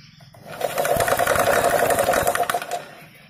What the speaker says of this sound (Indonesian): itu sudah saya putar menggunakan bor